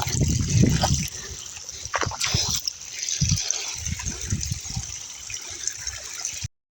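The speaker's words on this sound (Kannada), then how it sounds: "ಇಲ್ಲಿ ಈ ಥರ ಹಿಕ್ಲಲ್ಲಿ ನೀರು ಹೋಗುತ್ತೆ" Water trickles and gushes steadily through a small channel into a paddy field being flooded for transplanting, close and continuous, with a brief splashy surge near the start before it cuts off at the end.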